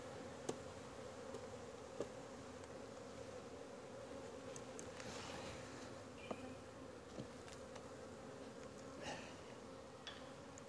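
Honey bees swarm around hive frames during a honey harvest, a soft continuous buzzing drone with a few faint clicks and knocks scattered through it.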